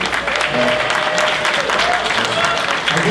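An audience applauds at a convention opening ceremony, dense sustained clapping from a crowd filling the room, loud and continuous with faint voices beneath.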